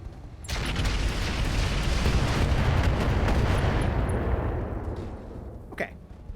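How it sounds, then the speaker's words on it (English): Short-range missiles fired by mechs in the RogueTech game, a sustained loud roaring barrage of overlapping launches and blasts that fades toward the end, with a brief sharp crack near the close. "Short-range missiles are out."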